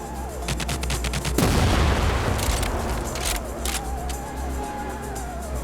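Rapid bursts of gunfire from the TimeSplitters Rewind video game, loud repeated shots and a heavy boom, with no talking.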